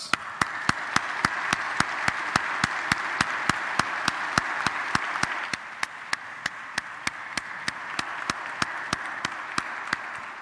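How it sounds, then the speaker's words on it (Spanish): Applause from a church congregation at Mass, a dense, steady wash of clapping that eases slightly midway, with sharp, evenly spaced clicks repeating over it throughout. "Vamos a dar un fuerte aplauso a los buenos papás."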